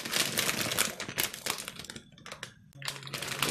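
A plastic bag of penne pasta crinkles and crackles up close, giving dense, irregular rustling bursts with a brief lull partway through.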